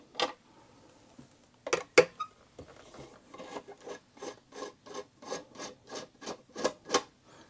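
Cover coming off a Singer 247 sewing machine, a series of short scraping and rubbing strokes, close and fairly quiet, forming a steady rhythmic train in the second half.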